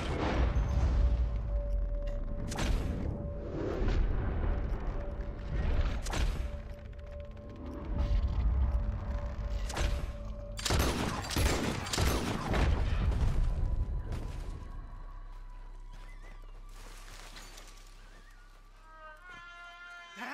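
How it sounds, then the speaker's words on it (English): Gunfight in the Red Dead Redemption 2 video game, with repeated loud gunshots, thuds and crashes over about fifteen seconds, then quieter rumbling ambience. "I don't even like this gunfight."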